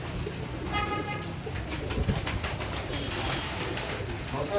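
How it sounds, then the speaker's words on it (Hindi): A flock of pigeons at feeding time, with washed grain being scattered for them, keeps up a constant layered cooing nearby, fairly loud and unbroken throughout, with no voices present. "दोस्तों सब दाना धो के डालता हूँ, कबूतरों को दाना धो के डालता हूँ"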